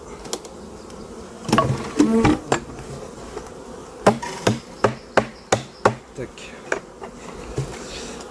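Honeybees being shaken from frames into a hive while it is being moved, heard as a series of sharp knocks and thumps over a constant low buzz of the swarm close by.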